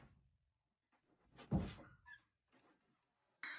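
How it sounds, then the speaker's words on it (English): A door shuts with a single dull thud midway, fairly close, surrounded by faint knocks and rustles in an otherwise quiet room. "Shut the door, shut the door."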